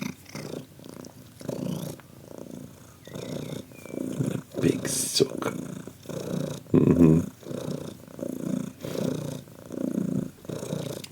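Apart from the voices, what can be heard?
cat purring loudly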